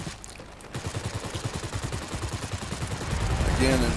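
Rapid bursts of rifle-calibre machine gun fire from a Bristol 133 fighter in World of Warplanes, a steady rattling stream of shots that grows louder toward the end, with no talk over it.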